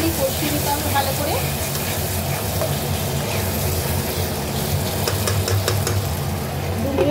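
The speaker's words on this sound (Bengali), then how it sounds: "দিয়ে এবার এটা একটুখানি কষিয়ে নিতে হবে ভালো করে।" Spice paste loosened with the water used to rinse the blender fries in a pan for an egg omelette curry, a steady, loud sizzling hiss broken by faint scraping stirs throughout.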